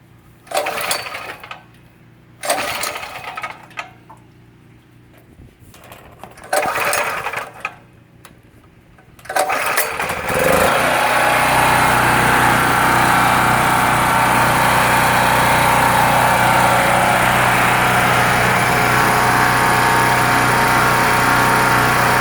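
Predator 4000 generator from Harbor Freight, already warmed up, cranked with several short pull-start bursts before catching at about ten seconds and running loud and steady close by.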